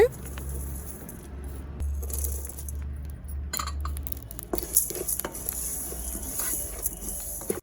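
Cumin and black pepper are dry roasted in a pan for homemade sambar powder, with dry scraping and rattling, metal clinks and stirring close by, and brief low talk.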